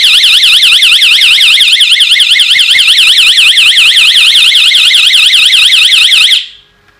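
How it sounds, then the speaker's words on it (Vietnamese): An AU-220V power-cut alarm sounds a loud, continuous warbling siren tone, rising and falling rapidly and steadily for over six seconds before cutting off abruptly, with no talking. "Thì trên đây mình vừa giới thiệu cho các bạn về cái bộ báo động cắt điện AU 220V."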